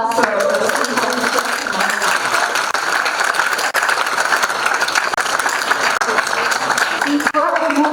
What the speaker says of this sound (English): Let's give another round of applause for